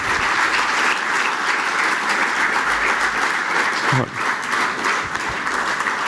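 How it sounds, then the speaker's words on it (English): Sustained applause from a live show audience, dense and steady clapping that continues throughout with a brief dip near the end. "A big round of applause, ladies and gentlemen."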